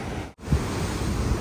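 Ocean waves breaking on the shore at Nusa Penida, Bali, heard as a steady broadband roar of surf with wind buffeting the microphone. A brief cutout occurs early in the clip, and no one speaks.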